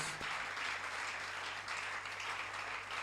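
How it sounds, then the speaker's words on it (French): A church congregation claps for the Lord during a French-English worship service, a steady, continuous wash of many hands filling the room at moderate level for the whole stretch, with no voices on top. "Clap for the Lord."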